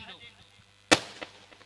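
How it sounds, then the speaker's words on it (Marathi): A firework bursts during celebrations at a local cricket tournament match: one sharp, loud bang stands out against an otherwise quiet background, with a short fading tail. "फटाक्यांच्या आतषबाजीत."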